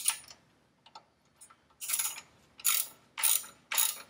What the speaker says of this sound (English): I'm gonna ease some tension on the belt now. So using that same T45 socket,